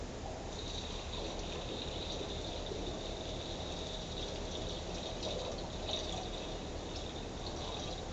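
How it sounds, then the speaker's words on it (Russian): Water poured steadily into a glass florarium to rinse the planted arrangement, filling its small pond: a continuous close trickle and splash with no pauses and no speech. "Сейчас я наливаю воду, чтобы промыть."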